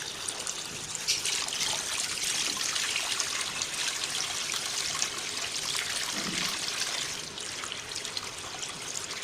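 Water runs and trickles steadily from a tap while rose water is prepared, a constant close splashing flow that carries on without pause and eases slightly near the end.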